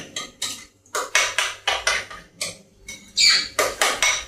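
Spoon scraping and clinking against a dish while stirring sugar into food, a steady series of about nine bright, close strokes in an even rhythm, with no talk.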